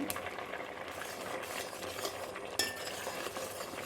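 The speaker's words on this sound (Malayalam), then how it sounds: "നന്നായിട്ട് തന്നെ ഇളക്കണം കേട്ടോ ശർക്കര ആയതുകൊണ്ട് ഇത് പാത്രത്തിൻ്റെ അടിയിൽ പിടിക്കാനായിട്ട് സാധ്യതയുണ്ട്" Jaggery syrup for adaprathaman payasam stirred in a pot, a soft, low-level sizzling bubble with faint scraping and a single light clink of a utensil, close but quiet and free of talk.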